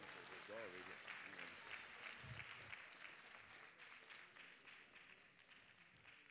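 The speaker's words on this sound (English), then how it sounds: "Let's give them a round of applause." Audience at a concert gives a round of applause, steady, moderately distant clapping that carries on throughout, with a voice briefly heard early on.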